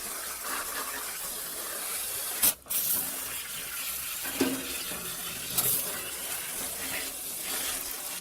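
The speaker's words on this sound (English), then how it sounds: "And with a hose." A garden hose sprays water over freshly dug dahlia tubers to wash off soil, a steady close hiss with a few brief sharper bursts and splashes.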